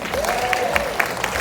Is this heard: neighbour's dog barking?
no